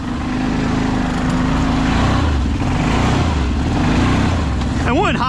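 A Kawasaki 650 ATV mud build runs loud and close, its engine droning unevenly with revving swells, and a brief whoop or voice cuts in near the end.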